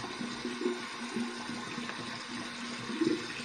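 Tap water running steadily into a sink while waiting for it to turn cold for a post-shave rinse, a constant splashing hiss with a faint pipe hum underneath, close by and without speech.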